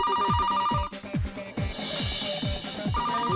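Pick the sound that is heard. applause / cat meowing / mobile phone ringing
mobile phone ringing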